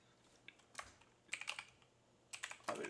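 Code being typed on a computer keyboard, with short clusters of crisp key taps separated by brief pauses, close and fairly quiet, with no talking.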